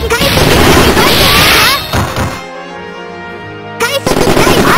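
In a Satoko-versus-Satoshi fighting game, loud booming explosions and crashing bursts come in dense volleys. A pause with a sustained tonal ring breaks them up before the blasts return, and voices are mixed in.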